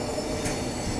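A train departing Barmer Junction gives a brief burst of broadband rail rumble and hiss with faint wheel squeal, steady and close, with no voices.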